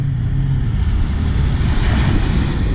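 Steady wash of surf and wind on a white-sand shoreline at Patong Beach, Thailand, a constant rushing roar without distinct breaks, fairly loud and close.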